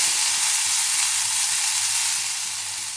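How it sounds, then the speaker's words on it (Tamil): Mint leaves sauté over moderate heat in a pan, giving a bright, even hiss of frying that stays close and constant, fading slightly toward the end. "புதினா வதங்கிட்டு இருக்குங்க"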